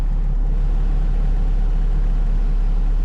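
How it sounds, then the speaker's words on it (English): 1988-1991 Honda CRX SI engine idling after starting, a steady low rumbling hum with a faint regular pulse, continuous and fairly loud throughout with no voices. "That's when I started the car."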